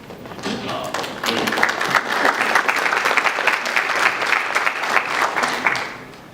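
Applause from the audience at a community visioning forum in Lakeport, a dense, steady wash of clapping hands that swells quickly, holds for several seconds, then tapers off at the end.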